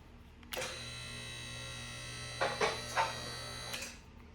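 A QuickJack 6000TLX car lift's electric power unit starts up and runs with a steady, close mechanical whine and buzz for several seconds, with a few louder clunks and surges midway before it stops; no talking.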